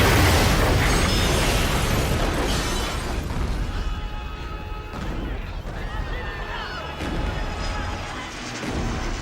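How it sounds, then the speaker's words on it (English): A nuclear test facility blows up as a special-effects explosion for a James Bond film, a long, loud rumbling blast with debris crashing and roaring continuously and no speech. "In the distance, we see the nuclear test facility exploding."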